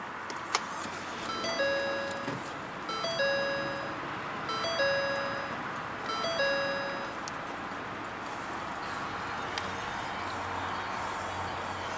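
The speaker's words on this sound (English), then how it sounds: "To start the vehicle, just put your foot on the brake and hit the button to start." A 2014/2015 Ford Fusion Titanium plays a series of repeated electronic chimes in short tonal groups at push-button start, over a steady broadband hiss that fills the cabin.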